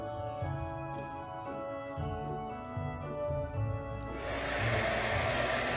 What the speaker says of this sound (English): I'm not sure if the blow drying is good for it or not, but I was growing impatient.